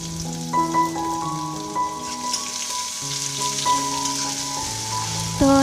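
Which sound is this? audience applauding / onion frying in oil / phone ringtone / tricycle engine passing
onion frying in oil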